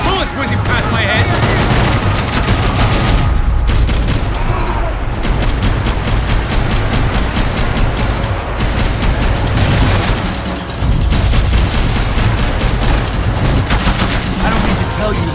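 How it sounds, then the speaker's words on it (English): Loud, sustained firefight from the video game Max Payne 3, with dense bursts of automatic gunfire and bullets whizzing close by, continuous for the whole stretch with barely a lull. "I can't concentrate with bullets whizzing past my head!"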